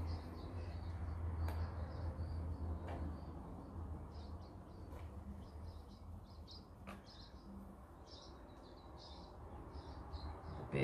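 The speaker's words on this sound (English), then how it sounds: "The birds have come out" Small birds chirp intermittently outdoors, faint and somewhat distant, over a low background rumble while a balloon is being stained with gel.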